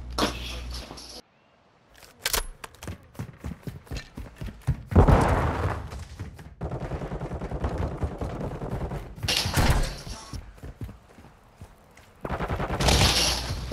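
Gunfire in Call of Duty: Modern Warfare II, rapid bursts and volleys of close shots broken by short silent gaps, with heavier blasts of fire toward the middle and end.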